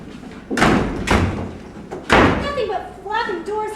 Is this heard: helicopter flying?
no